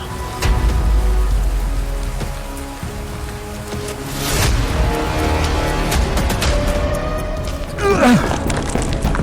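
Heavy rain pours down in the mountains, a loud continuous hiss of drops on surfaces with a few dull thumps, swelling slightly midway and ending with a brief rising whine.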